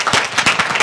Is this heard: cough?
no